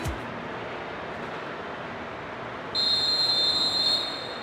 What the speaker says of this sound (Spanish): Silbato del juez.